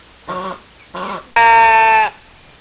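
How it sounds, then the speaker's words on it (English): Sheep bleat close by on a farm, two short bleats followed by one longer, louder, drawn-out bleat, with no talking. "Good morning, sheep."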